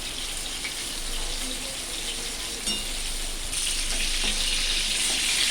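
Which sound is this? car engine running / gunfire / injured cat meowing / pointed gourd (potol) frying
pointed gourd (potol) frying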